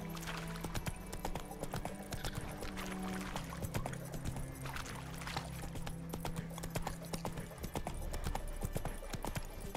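Roach, a horse in The Witcher 3, runs with a steady fast clip-clop of hooves over continuous low ambient game sound. A voice talks quietly now and then.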